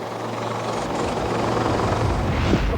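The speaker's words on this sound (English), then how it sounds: "about to be dropped by helicopter into a combat zone" A military helicopter drops troops into a simulated combat zone on an exercise: a loud, close, continuous rotor roar with deep thumping low end, swelling slightly as it goes on.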